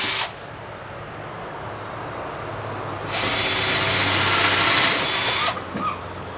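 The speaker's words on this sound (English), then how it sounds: "So we're going to drill a pilot hole in each corner." A power drill bores pilot holes into the corners of a wooden board, whirring steadily for a few seconds with a louder, higher-pitched burst in the middle stretch.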